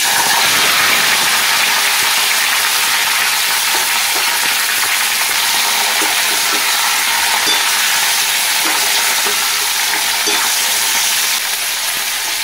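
Chopped green tomatoes fry in hot oil spiced with five-spice tempering and a dried red chilli, giving a loud, constant sizzle with faint scraping stirs throughout and no voices.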